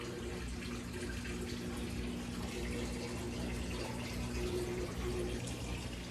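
Water pours steadily into an aquarium tank, giving a continuous, moderately quiet rushing and splashing sound that stays even from start to finish.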